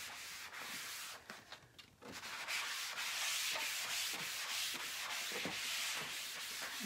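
Wiping chalk residue off a wet Chalk Couture stencil produces close, continuous rubbing and swishing strokes with brief pauses, a soft scrubbing texture with no talk.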